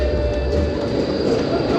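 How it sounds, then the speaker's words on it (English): A city tram rumbles past on a Melbourne street, giving a steady low mechanical rumble with a faint tonal whine throughout a short, loud stretch. "And of course, you stop for trams."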